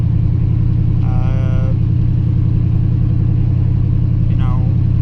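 Cammed, stall-converter Chevrolet Silverado pickup driving, a steady deep rumbling engine drone running throughout at close range, with a couple of brief higher tonal sweeps over the top.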